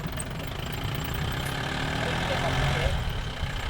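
A jeep engine running on a trip toward Mamalakandam, a low steady rumble heard from close by, continuous and even for the whole stretch.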